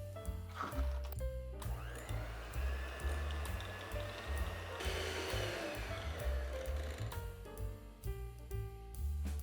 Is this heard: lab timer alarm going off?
no